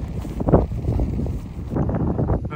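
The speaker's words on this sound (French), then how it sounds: "il y a un petit soleil et il y a beaucoup de vent." Strong wind buffeting an outdoor meadow at Montrucher on a sunny day, rough low rumbling gusts that swell and ease in waves, close and blustery throughout.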